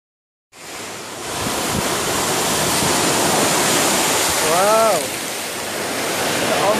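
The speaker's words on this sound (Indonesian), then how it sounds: "Ada ombak." Ocean surf rolling continuously at a beach near Pulau Ayer, a broad steady wash of waves with some wind buffeting, while a voice exclaims briefly and a short tonal sound rises near the end.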